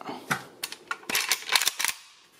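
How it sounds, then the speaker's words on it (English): Magazine removed from an Arsenal SAM7SF-84E rifle, a quick series of close metallic clicks and clacks from the catch and mag, loud and alone. "Let me take this mag out"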